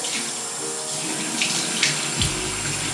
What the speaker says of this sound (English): You're gonna take the warm water and you're going to rinse your face with it